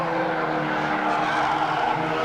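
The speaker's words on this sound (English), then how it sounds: "the 188 car goes around on the east turn" A street stock car spins out on the east turn during a figure-of-8 race, its engine roaring and tires squealing in a dense, continuous wash of racing noise with no clear talk.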